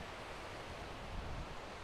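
Steady ocean surf at Side beach in Kumköy, Turkey, at sunset: a continuous broadband wash of breaking waves with no distinct individual crashes, moderately loud and uninterrupted, with no voices.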